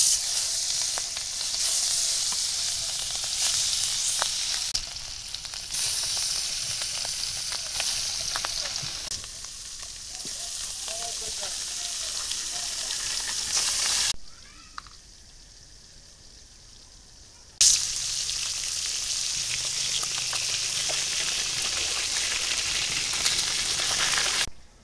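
Hilsa fish pieces frying in hot oil in a wok, a loud steady sizzle and crackle that drops away briefly midway, then returns at full strength.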